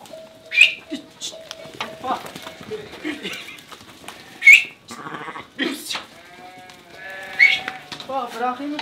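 Sheep with their lambs bleat at close range, several loud, wavering calls spaced a few seconds apart, mixed with softer bleats and lighter animal noises, while a person talks between and over them.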